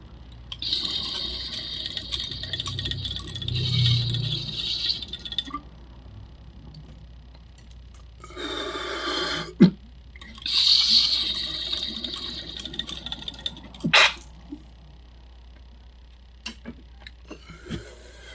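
Dab taken from a water rig, with bursts of bubbling water gurgle rising and fading over several seconds amid faint room noise and soft clicks.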